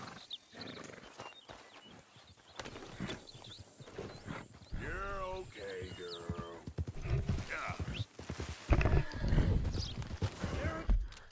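Horse hooves clip-clop in the video game Red Dead Redemption 2, rhythmic hoofbeats mixed with a horse whinnying, while someone talks over the game sounds.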